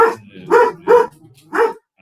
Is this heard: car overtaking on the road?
no